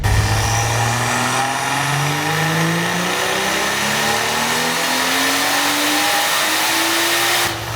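A Gen 1 BMW B58 engine revs hard during a dyno pull on a car making close to 700 wheel horsepower, a loud, sustained roar whose pitch climbs steadily over nearly eight seconds before cutting off.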